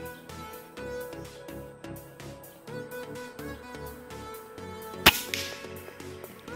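An air gun fires a single sharp crack at a 40 meter target, loud and brief, over background music.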